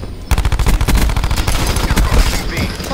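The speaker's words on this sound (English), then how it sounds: "I'm getting shot by two people" Rapid automatic gunfire in a Call of Duty–style multiplayer shooter, loud bursts of closely spaced shots rattling almost nonstop for a few seconds with brief gaps between volleys.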